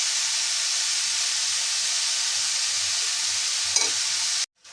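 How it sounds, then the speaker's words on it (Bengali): Snake gourd frying in a pan gives a steady close sizzle and hiss, with one brief clatter near the end just before the sound cuts off. "চিচিঙ্গাগুলো ভাজতে থাকি।"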